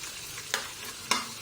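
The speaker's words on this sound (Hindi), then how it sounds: "और अब हम इसको तब तक भूनेंगे जब तक कि गोल्डन नहीं हो जाता।" Crushed garlic and ginger paste frying in oil for kofta curry, a close, steady sizzle with two sharp stirring scrapes.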